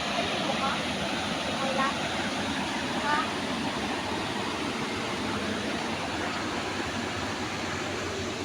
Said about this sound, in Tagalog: Ayan ang falls, oh, ganda.